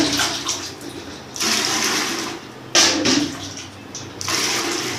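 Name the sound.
water poured from a mug into a bucket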